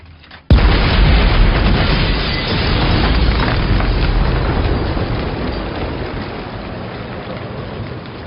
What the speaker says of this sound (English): I should just have the clip of an explosion of the little house exploding